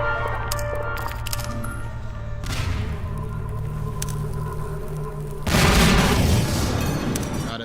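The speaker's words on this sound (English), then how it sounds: "Drop a grenade in here." A grenade explodes in a Half-Life custom map, a loud broadband boom bursting in close quarters after steady game ambience, with the blast's roar sustaining for a couple of seconds.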